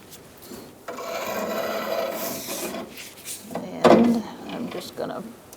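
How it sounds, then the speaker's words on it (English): Metal scraping and rubbing as an exhaust clamp is used to pry down the lower control arm of a 2012-2017 Hyundai Accent 1.6L during a front ball joint replacement, close and uneven with a sharper clunk near the end. "Gonna pry down like that and push this out like this."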